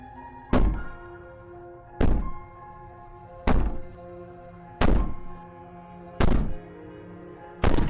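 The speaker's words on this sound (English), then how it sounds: "Oh, bang on the door all you want." Someone bangs on a basement door in the video game Slay the Princess: six heavy, booming thuds at a steady pace about a second and a half apart, each ringing out briefly.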